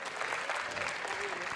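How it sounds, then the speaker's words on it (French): Steady applause from an audience at an award ceremony presenting Cit'ergie labels to towns, a dense, continuous wash of clapping filling the room with no pauses. "Applaudis bien fort."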